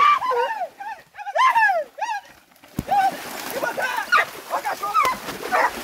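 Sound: hunting dogs barking while chasing a paca

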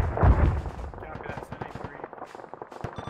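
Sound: artillery HE rounds firing in video game ARMA

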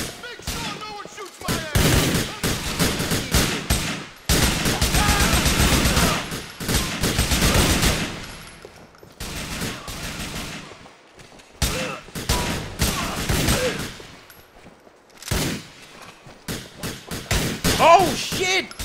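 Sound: gunfire in a video game

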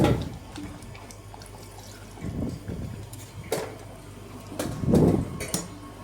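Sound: pouring water into a pot

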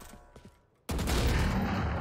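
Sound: flashbang going off in a video game (Valorant, Pearl map)

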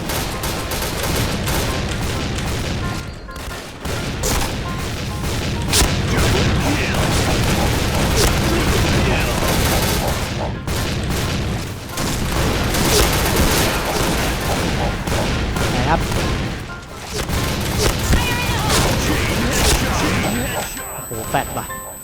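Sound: shotgun firing in the Point Blank video game

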